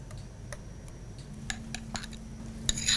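Onion paste being stirred in a cooking pan with little oil, giving a run of light scraping and spoon ticks against the metal, close and fairly soft, with no talking.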